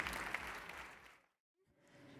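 Applause from a conference audience after a sustainable mobility panel, clapping fairly close for about a second then fading out to silence, followed by quiet room noise.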